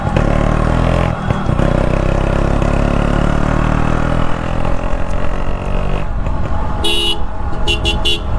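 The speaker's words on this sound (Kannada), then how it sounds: "RX 135 ಫುಲ್ ಇಂಜಿನ್ ರೀಸ್ಟೋರ್ ಮಾಡಿದ್ದೀನಿ, ಪರ್ಫಾರ್ಮೆನ್ಸ್ ರೀಸ್ಟೋರು" A restored Yamaha RX 135 two-stroke motorcycle engine runs loud and close, idling with rough revving, followed by a few short horn toots near the end.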